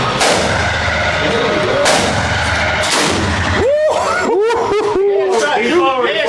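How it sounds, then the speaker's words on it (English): Loud shots from an AR-12 style shotgun at an outdoor shooting range, several blasts amid constant chatter and laughter from a group standing close by. "Did you shoot an AR-12?"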